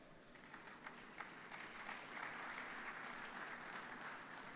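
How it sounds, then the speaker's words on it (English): An audience claps together at a motivational talk by Dr. Olorunsheyi Sunday, a steady wash of applause that swells slightly midway and holds, moderately distant and fairly faint, with no voices over it. "You are clapping even when you don't know what I want to talk about."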